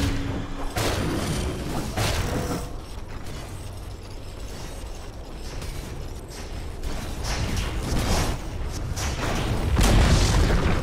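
A tower being destroyed in Dota 2: heavy crashing booms and grinding, creaking mechanical crumbling, with a large impact near the start and a stronger one near the end.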